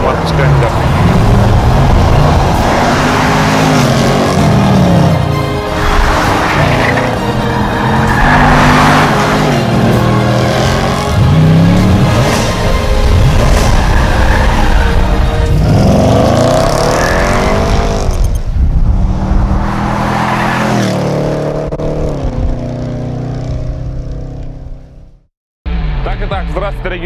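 A 600-horsepower Chevrolet Camaro SS accelerates hard, its engine revving loud and close with rising and falling surges and a brief tire squeal, before cutting off abruptly near the end.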